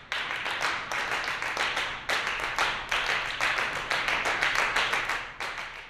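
Crisp hand clapping, close and dry, in fast interlocking rhythmic patterns that shift in short repeating bursts with brief pauses between phrases.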